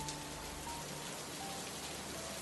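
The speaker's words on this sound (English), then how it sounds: "The rain intensified," Steady rain drums on the roof of a bus shelter at midnight, a dense, even hiss of drops with a low, continuous rumble beneath, heard quietly and without any voices.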